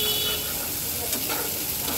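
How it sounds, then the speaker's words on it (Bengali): Chopped onions fry in a pan for Bengali hilsa fish do-peyaza, a steady close sizzle with faint scraping stirs running throughout, no talking. "এই দেখো দিয়ে দিলাম পেঁয়াজ কুচি, একটু সুন্দর করে ভেজে নেব"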